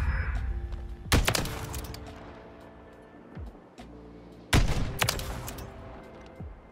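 Two loud, sharp gunshots from a sniper rifle in a video game, each a heavy crack with a ringing tail, spaced a few seconds apart over quieter game sounds.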